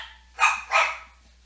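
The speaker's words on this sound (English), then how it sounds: "Sorry, that was a dog." A dog gives two sharp barks in quick succession, fairly close and loud against a quiet indoor background.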